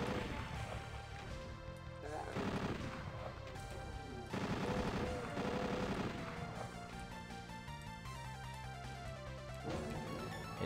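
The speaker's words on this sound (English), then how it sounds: "Being shot from behind, that's not pleasant." Gunfire in a live-streamed shooter game, with bursts of shots and crashes over a dense, continuous game soundtrack throughout.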